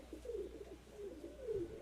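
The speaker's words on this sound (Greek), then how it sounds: "Ναι, είναι ωραία περιστέρια." Pigeons coo in a Greek loft, a soft low rolling call repeated two or three times close by over steady background hum, with no talk.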